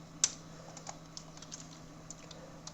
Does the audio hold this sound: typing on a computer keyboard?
yes